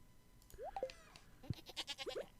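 Sheep in the farming game Stardew Valley bleat in a few short, nasal calls spread over a couple of seconds, close and clear against a faint game background.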